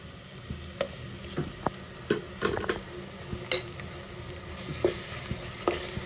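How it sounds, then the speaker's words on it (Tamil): Onions sautéing in a pan for chicken kurma give a soft steady sizzle, broken by scattered clicks and scrapes of a spoon stirring against the metal, fairly quiet and with no voices. "ப்ரௌன் ஆகிற வரைக்கும் வதக்கிக்கலாம் வெங்காயம் வந்து இப்போ நல்லா கோல்டன் ப்ரௌன் கலரில் ஆயிடுச்சு"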